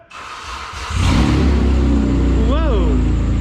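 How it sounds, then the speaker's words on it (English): Car engine fitted with a new exhaust catches and settles into a loud, throaty idle, then gets a single sharp rev that climbs and drops back, heard up close. "Start her up, give her some revs."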